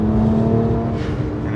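A BMW 1M driving through turns produces a loud, steady engine drone with a strong constant tone and road rumble, heard from inside the car without break.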